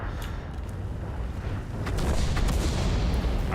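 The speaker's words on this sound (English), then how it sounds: "I'm getting hit by artillery" Artillery shells striking or landing near a tank in World of Tanks; a heavy, continuous low roar that swells louder about halfway through, with faint crackles on top and no talk.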